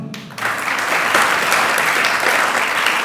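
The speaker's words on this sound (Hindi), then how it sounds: "ताली तो बजाओ।" Loud, dense applause from an audience, steady and close, starting abruptly after a brief moment of quieter sound.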